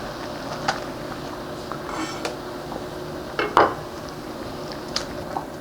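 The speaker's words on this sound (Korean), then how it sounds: "두부를 썰어서 넣어주겠습니다." Tofu being cut and dropped into a pot of doenjang soup, with sparse clinks and knocks of pots and utensils and one louder clatter near the middle, close by and otherwise quiet.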